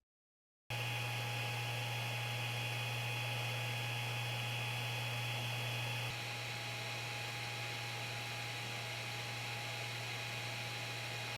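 3D printer hotend fan running behind a noise-reducing cover, a steady close whirring hum with a constant tone and hiss that shifts slightly in level partway through, no talking.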